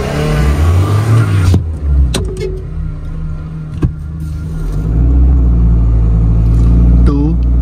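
Heavy low engine rumble from a Honda City 1.5 petrol and a Hyundai Verna 1.6 diesel launching in a drag race, loud and close with wind buffeting, a few sharp knocks and a swelling roar toward the end.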